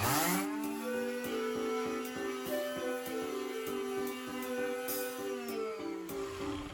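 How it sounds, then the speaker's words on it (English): An electric sander runs steadily against Dollar Tree plastic handles, a close, continuous buzzing whine pulsing with a regular scraping rhythm, sharp brief clicks and shifting pitch as the tool moves across the surface. "I took out all my handles, and now I just need to sand them all."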